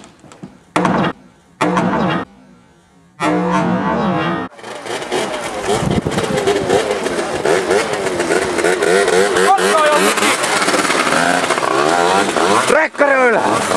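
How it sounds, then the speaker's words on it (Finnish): A tuned scooter engine revs hard and loud, after a few short bursts separated by pauses, then holds a sustained buzzing drone with rising and falling pitch, with voices audible around it. "Viritetty skootteri!"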